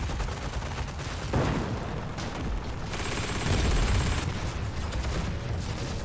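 Dense gunfire and explosions from a World War II shooter game, Heroes & Generals, sustained and loud through the whole stretch as a continuous battle din with overlapping shots and booms.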